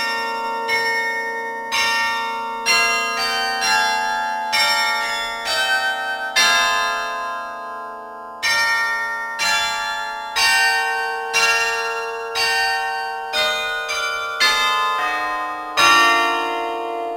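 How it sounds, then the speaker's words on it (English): Carillon bells, a full carillon including 23 added bells, ring out a melody, each struck note blooming and decaying in a steady, unhurried sequence, loud and resonant with no voices. "to a full carillon with a gift of 23 more bells from Mrs. Catherine Stewart Armington"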